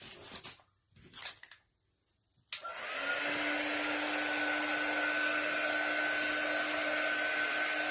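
After a few soft knocks, a hair dryer switches on and blows steadily to dry matte craft paste on gingerbread houses, a loud, even whir that runs without a break to the end.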